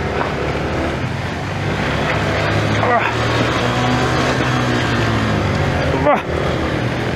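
A vehicle engine labors hard while climbing, a loud sustained rumbling drone with shifting pitch, heard close alongside the voices of people talking.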